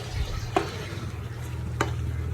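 Beguni, battered eggplant fritters, frying in oil with a steady low sizzle, broken by two brief stirring clinks.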